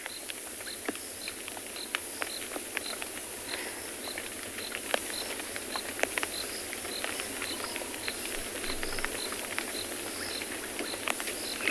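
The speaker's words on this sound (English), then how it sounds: "You can hear the pitter-patter of raindrops falling on the roof as we're watching the elephants." Raindrops patter on a roof during an evening safari at Tswalu, light and scattered taps over a constant high insect chorus, faint and steady with no voices.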